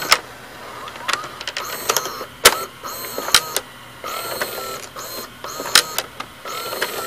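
A Magnavox VR601BMG23 VCR runs its tape mechanism on fast-forward, whirring steadily with sharp mechanical clicks and clunks scattered through the run, heard alone at close range.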